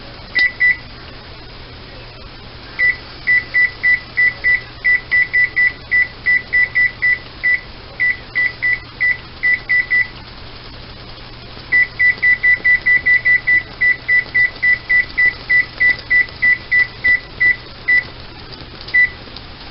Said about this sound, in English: I'm going to put my timer for 2 minutes